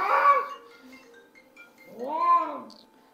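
A lively, restless house cat meows twice, close and loud, with a drawn-out cry at the start and a second wavering meow about two seconds later, separated by near silence.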